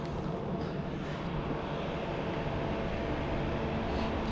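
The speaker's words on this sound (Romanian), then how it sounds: "Ceva camion de abia merge, frate." Heavy truck laboring along a road at night, its engine a steady low rumble that holds a constant loud drone throughout, with no voices over it.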